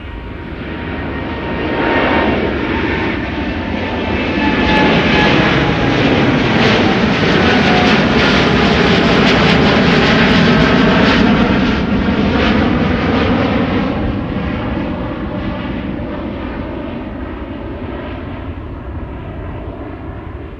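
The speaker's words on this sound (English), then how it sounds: "this is KLM flight 667 to Austin in Texas up next. 7879 Dreamliner." A KLM Boeing 787-9 Dreamliner jet departs Amsterdam Schiphol, bound for Austin. Its loud rumbling roar swells over several seconds, holds with whining engine tones that bend downward, then slowly fades, with no voices.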